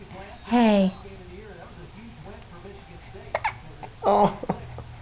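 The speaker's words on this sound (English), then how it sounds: "You don't like the hiccups, do you?" A baby boy hiccups several times, with short, sharp, close spasms spaced through the clip, while an adult voice murmurs softly to him in between.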